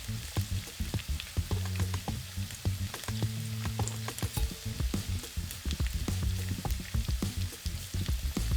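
Batter for Cambodian somlor korko soup crackles and sizzles in hot oil, a busy popping hiss with intermittent scraping and clinking of a utensil against the pot.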